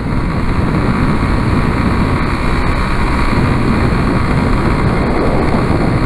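A Yamaha Fazer 250 motorcycle cruises on an open highway, heard as a loud, constant roar of wind rush over a steady engine drone, with no distinct gear changes.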